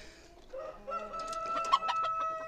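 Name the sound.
Cuckoo bantam chickens clucking on a poultry farm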